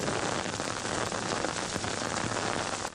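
Heavy rain pours down in a dense, loud, unbroken hiss of drops striking the ground, with no voices.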